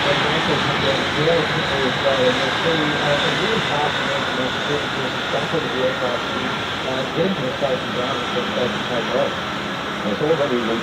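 A large military aircraft flies at the Avalon air show in Australia, a loud continuous jet roar that holds steady and close, with a voice talking over it.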